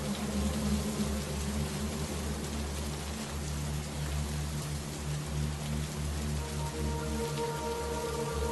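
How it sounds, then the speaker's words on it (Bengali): Steady rain falls in an animated cartoon scene at night, a continuous dense patter with a low rumble beneath, even in level throughout with no voices. "সেই কখন থেকে বৃষ্টি শুরু হয়েছে এখনো থামছে না"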